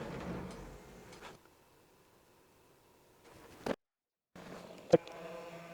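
An old 3D printer dating from 2016 runs its homing and bed-probing routine, giving a low mechanical motor hum. After a quiet gap come two sharp clicks or knocks, then more whirring. The sounds are fairly quiet and close, with no one talking.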